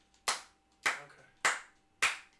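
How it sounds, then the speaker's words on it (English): Four sharp, evenly spaced hand claps ring out close by in a quiet room, each a crisp slap that decays quickly, at a slow deliberate pace. "Why are you clapping?"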